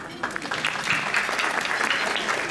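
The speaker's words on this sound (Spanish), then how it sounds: "Un aplauso para ustedes" A conference audience applauds with loud, continuous clapping that runs through the whole short stretch.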